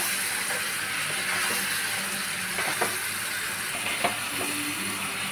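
Spices sautéing in a hot pan for mutton keema ghugni give a steady close sizzle and hiss, with a few soft scrape and stir knocks from a spatula scattered through.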